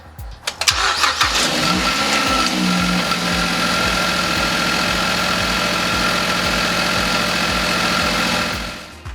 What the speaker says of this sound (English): So the next thing to do is start the car and make sure everything works properly.